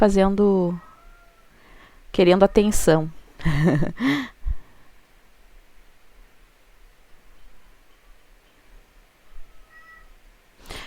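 A cat meows several times up close in quick succession, with a person speaking briefly in between, then quiet room noise.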